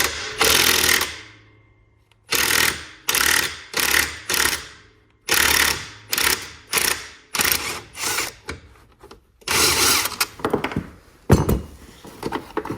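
An impact wrench rattles in repeated short bursts while backing out a screw on a lawn mower, each burst a loud hammering whir of about a second separated by brief pauses, close to the microphone.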